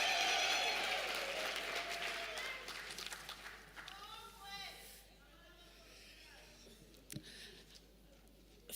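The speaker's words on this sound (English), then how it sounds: "Can we give her a round of applause" Audience applause at a college graduation ceremony, a steady wash of clapping from a large crowd that fades down over several seconds, with some voices and crowd murmur mixed in.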